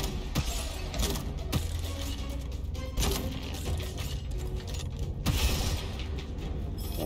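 Grenade launcher weapon mechanism in Gunfire Reborn, dense clattering mechanical clicks and creaks over a busy game background, with sharp metallic transients near the start, middle and end.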